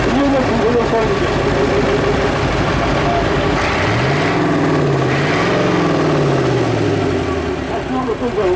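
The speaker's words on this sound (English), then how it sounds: "You listen to this engine." The Parsons V8 engine of a historic agricultural tractor runs at an outdoor autumn show, a loud, close, continuous rumble that swells in pitch midway as the engine revs, then settles back to idle.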